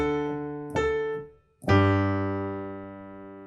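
Piano playing a short passage from the chorus of O Canada: a held chord, a second struck chord, then a louder third chord left to ring and slowly fade, with no talking.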